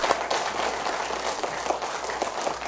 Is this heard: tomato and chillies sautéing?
no